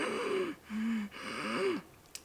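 A dog breathes heavily close by, with several wheezy, snorting inhalations and exhalations in a short irregular sequence and a small click at the end.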